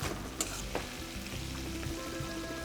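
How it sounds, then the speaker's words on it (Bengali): Chili, garlic and ginger paste fries in mustard oil over low heat for a red chicken curry, giving a steady close sizzle with a few sharp spatters and scrapes of stirring, no voices. "প্রথমেই লঙ্কা রসুন আর আদা বাটা দিয়ে দেবে সরাসরি কম আঁচে তেলে"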